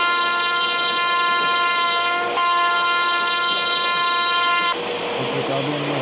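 A WAP7 electric locomotive sounds its horn while running, a loud sustained multi-tone blast lasting about four and a half seconds over rumbling rail noise, then cutting off to leave the rolling train.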